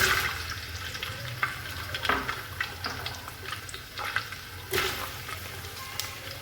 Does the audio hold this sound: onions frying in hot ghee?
yes